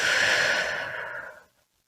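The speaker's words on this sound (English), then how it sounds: "and a deep breath out" A single deep breath out during a guided prayer, a soft airy exhale close to the microphone that fades away after about a second and a half.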